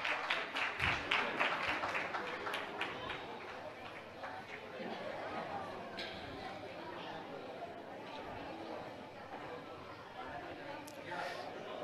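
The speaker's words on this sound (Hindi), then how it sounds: "इस बीच तालियों की गड़गड़ाहट जारी रहनी चाहिए" Applause from a seated crowd at a Jain religious gathering honouring guests, loud clapping in the opening seconds that thins into scattered claps beneath murmuring chatter and background talk.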